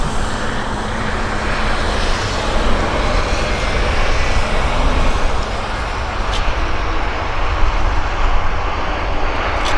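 Heavy USAF military aircraft arriving at Abbotsford airport produce a steady, loud engine roar and broad rumble that hold throughout, with no talk over them.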